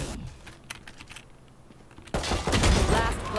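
A pistol fires in the Valorant video game, sharp gunshots that burst in loud and dense near the end after quieter clicky keyboard-like tapping.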